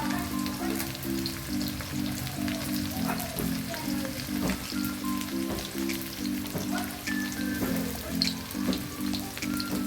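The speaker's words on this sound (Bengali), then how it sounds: "এই দেখো আমি পেঁয়াজগুলিকে সুন্দর নাড়িয়ে চাড়িয়ে ভেজে নিচ্ছি।" Chopped onions fry in oil with a crackling sizzle and occasional stirring scrapes, over a pulsing low hum that repeats in short regular bursts throughout.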